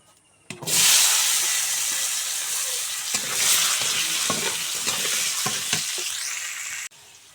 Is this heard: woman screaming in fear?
no